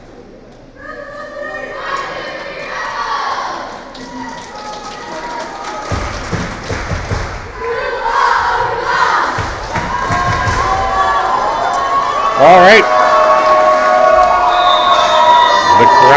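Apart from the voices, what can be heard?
crowd cheering at girls' volleyball regional final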